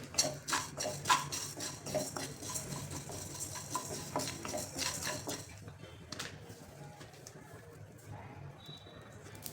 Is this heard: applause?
no